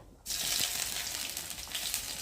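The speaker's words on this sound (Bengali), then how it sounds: "ফোড়নটা ভাজা ভাজা হয়ে গেছে এখন আমি দিয়ে দেবো আদা বাটা" Ginger paste hits hot oil already sizzling with dried red chillies and whole cumin, bursting into a loud, bright, crackling hiss that starts abruptly and keeps going close by.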